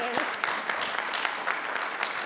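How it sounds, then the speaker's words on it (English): An audience at a school board meeting claps steadily throughout, with a brief voice at the start. "Let's give Miss Jessie a round of applause."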